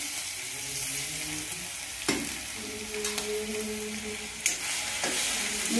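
Green chili, ginger and garlic sizzle in hot cumin tempering as they are stirred in a pan, a steady close frying hiss with a few clattering spoon scrapes and no talking.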